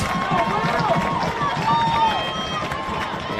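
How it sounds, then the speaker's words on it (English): A high school baseball crowd roars back to life with steady cheering and shouting in the stands, a broad sustained wash of voices with an announcer's voice over it. "And the TCA crowd has roared back to life."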